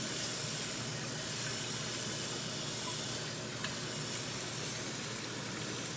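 Cold water hits a hot cooking pan and sizzles with a steady, broad hiss that holds at an even level throughout, close by and with no voices.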